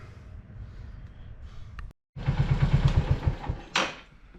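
A Royal Enfield motorcycle engine cranks briefly, goes quiet, then fires up into a loud, pulsing idle with a sharp rev near the end.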